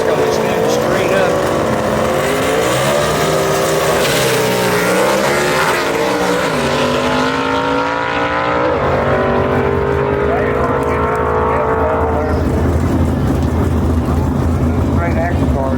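A red, white and blue gasser drag race car launches at Shadyside Dragway with a loud engine roar that climbs and falls in pitch as it pulls away, all amid constant broad track noise.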